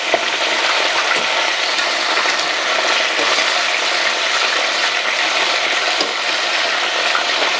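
Chicken wings for honey sriracha deep frying in hot oil, a loud, dense, continuous bubbling crackle that holds steady and close throughout with no talk.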